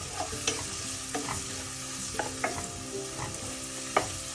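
Crushed shallots are stirred into a Kollam-style mackerel pepper masala, a spoon scraping the pan every second or so in sharp clacks over a steady close sizzle, with no voices.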